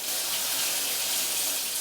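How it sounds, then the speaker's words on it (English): Very hot water runs from a kitchen tap while bread dough is being prepared, a steady, close, unbroken rushing hiss throughout with no talk. "we're going to do it pretty much as hot as my tap can handle here"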